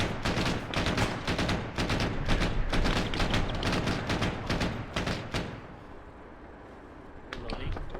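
Rapid gunfire in an ArmA battle during a Soviet-Afghan convoy fight, loud repeated shots in quick bursts for about five seconds, then fading to quiet with a couple of final cracks.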